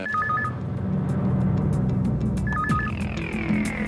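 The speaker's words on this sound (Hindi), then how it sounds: "महेश, किसका फोन है?" Two short bursts of an electronic warbling phone ring, a couple of seconds apart, over a steady rumbling background.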